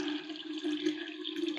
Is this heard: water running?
yes